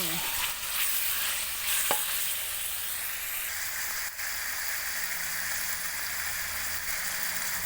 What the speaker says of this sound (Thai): ผัดคลุกคลิกคลุกคลิกไปเรื่อยๆให้เข้ากันนะคะ